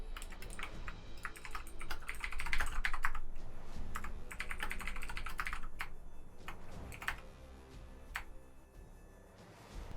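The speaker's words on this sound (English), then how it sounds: "I couldn't even see what I was typing with it loaded in" Rapid clattering keystrokes on a computer keyboard during a Warhammer Eldar multiplayer strategy game, typed in quick irregular bursts close by with short pauses, steady throughout with no talking.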